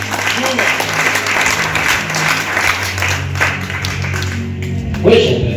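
A church congregation breaks into sustained, loud applause, with steady clapping from a large crowd that swells again near the end while a voice speaks through it.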